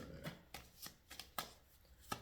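Cards are shuffled in a series of quick, soft riffling bursts, about six or seven in a row, close and quiet.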